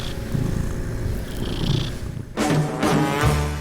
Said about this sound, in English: I love when Stashy purrs. It doesn't take much, just a little belly rub and he's there